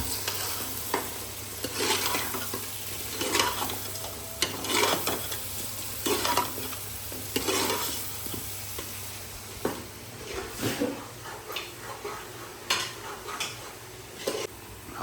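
Meat lightly frying in a pan for an iftar meal in a village kitchen, sizzling steadily while a utensil stirs and scrapes it in repeated close strokes, with occasional clinks of cookware and no talk.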